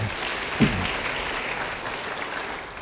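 Brief burst of audience applause during a church sermon, a broad steady clatter of many hands filling the clip at moderate level, with one sharper clap near the start and no talking over it.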